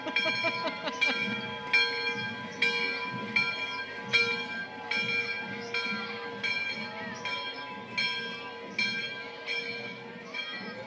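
A large bell carried through a Christmas parade in Kannapolis rings steadily, with about a dozen evenly spaced clanging strikes over several seconds against a low outdoor crowd murmur.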